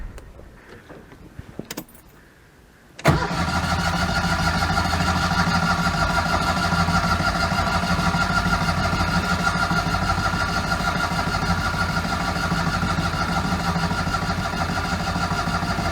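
A Citroen 2CV engine turned over and running during a service, with a rattle of keys before it catches, then a steady, loud, even idle drone that carries on without a break.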